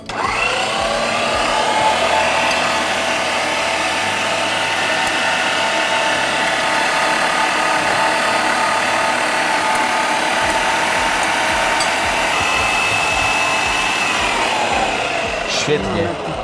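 An electric meat grinder runs steadily on a coarse plate, mincing mushrooms with onion, its motor whine and grinding rattle continuous and loud throughout.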